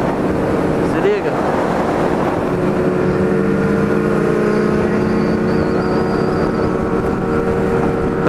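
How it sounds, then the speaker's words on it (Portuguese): Kawasaki Ninja 300 motorcycle riding in a group with a Honda Hornet, steady loud engine drone and wind rush throughout, one brief rev swell early on, with people talking over it. "Tamo andando com uma Ninja 300 aqui"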